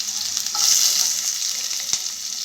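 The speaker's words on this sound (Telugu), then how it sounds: "నూనె కాగిపోయింది. ఆవాలు వేసుకుంటున్నాను." Mustard seeds crackle and sizzle in hot oil for an Andhra-style tempering, a dense, steady hiss with scattered pops and one sharper crack near the end, close and loud with no talking.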